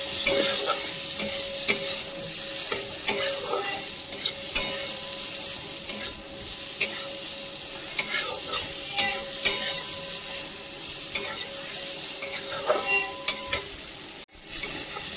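Boiled potatoes are stirred into a spice paste in a pan for veg kofta curry: a continuous sizzle with repeated sharp scrapes and clinks of a spatula against metal.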